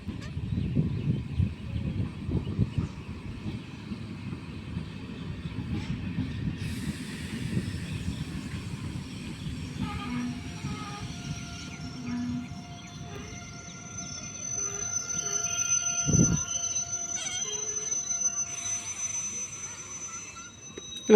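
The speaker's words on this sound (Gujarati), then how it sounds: "ટ્રેન આવી ગઈ છે." A train pulls in beside green village farmland, its low rumble building and then giving way to a high, sustained wheel squeal and hiss as it slows, heard from moderately close with no talk.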